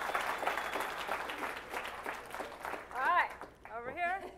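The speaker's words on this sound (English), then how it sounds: "Man, round of applause!" A conference audience at a keynote gives a soft, distant round of applause, a fizzing patter that fades as a voice speaks over it and then continues.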